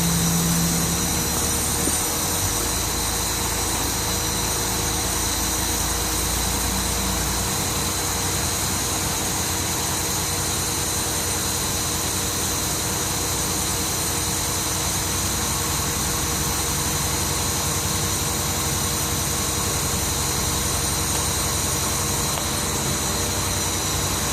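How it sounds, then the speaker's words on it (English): A truck's diesel engine runs steadily at idle during a pre-trip air brake check while building air pressure, a constant droning hum with no change in pitch and no one speaking. "I'm gonna turn the key on, put the engine on. I'm gonna help the assisted pass to build up the air to a minimum of 100 psi."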